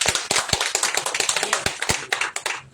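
Audience claps loudly at a Hindi sermon gathering, a dense burst of sharp, close handclaps in irregular rhythm that thins toward the end.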